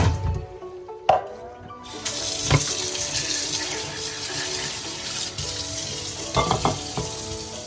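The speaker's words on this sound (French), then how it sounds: "On ouvre maintenant notre boîte de pousses de bambou et on les rince sous l'eau fraîche." Canned bamboo shoots rinsed under a cool running kitchen tap, a steady broadband wash of water with a few louder splashes and clatters against the sink, continuous throughout and close.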